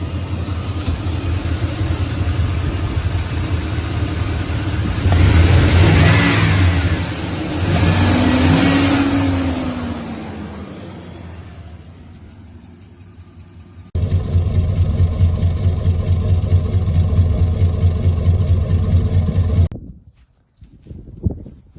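A Chevrolet Silverado pickup engine running close by after fuel filter and spark plug wire work, a steady throaty rumble that revs up and settles, then drops off abruptly at the end.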